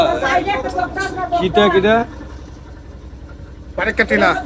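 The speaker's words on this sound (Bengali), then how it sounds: "এই মাত্র আমাদের হাউস বোট রওনা করছে" A houseboat's engine runs with a low, steady drone as the boat sets off across a haor wetland. Someone talks loudly over it, pausing for a moment when the engine hum is heard alone.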